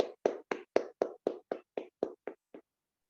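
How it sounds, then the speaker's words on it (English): A round of applause for the speakers at a Toastmasters meeting comes across as about eleven sharp, evenly spaced claps that slow slightly and fade out by the end, with no talking. "Let's give a big round of applause to all the speakers,"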